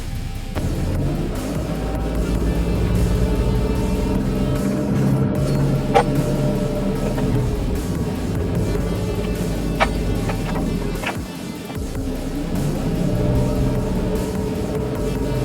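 A 4WD in low range, tyres aired down to 2 PSI, drives across the soft sand of Stockton Beach, making a steady, close, low engine rumble with wind noise and no speech.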